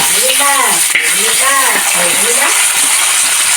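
Small shallots fry in a pan with a loud, close, unbroken sizzle. A voice makes short rising and falling sounds over it in the first half.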